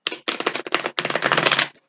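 Stiff tarot cards being shuffled by hand, giving dense bursts of crisp riffling clicks in three runs separated by brief pauses, close and fairly loud with no voices.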